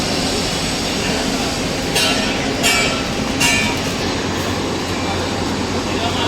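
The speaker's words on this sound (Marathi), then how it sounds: "हे आहे पनवेल रेल्वे स्टेशन" Train at Panvel railway station, a loud continuous rumble of rolling wagons with a few bright metallic squeals and screeches breaking through.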